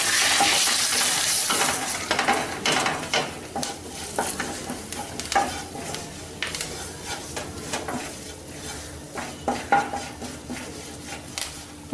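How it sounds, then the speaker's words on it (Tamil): Chilli powder, coriander, cumin and garam masala roasting in hot oil on a low flame for a spicy baby potato curry, with a steady sizzle under repeated stirring scrapes and metal clinks of a spoon against the pan. "இப்போ நம்ம வந்து மிளகாத்தூள், மல்லித்தூள், ஜீரகம், கரம் மசாலா எல்லாத்தையும் இந்த எண்ணெயில் போட்டு வறுக்க போகிறோம்."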